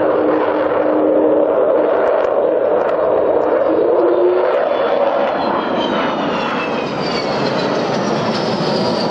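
The Avro Vulcan XH558 jet bomber flies an air display with a loud, continuous roar of its engines that rises into a howling whine as it passes close overhead.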